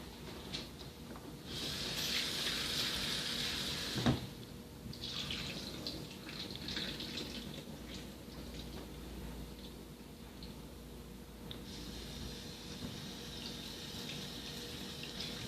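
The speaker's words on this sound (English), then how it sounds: "So yeah, I'm just rinsing our rice." Jasmine rice rinsed under running tap water, a steady close stream splashing into a container with a brief clunk partway through, continuing evenly without speech.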